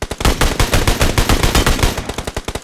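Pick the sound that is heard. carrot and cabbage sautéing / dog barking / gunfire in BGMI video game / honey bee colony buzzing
gunfire in BGMI video game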